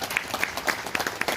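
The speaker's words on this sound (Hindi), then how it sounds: "इनके लिए एक बार जोरदार तालियां।" An audience at a direct selling summit applauds event organisers, giving loud, close, brisk clapping with distinct individual claps that carries on through the whole short burst.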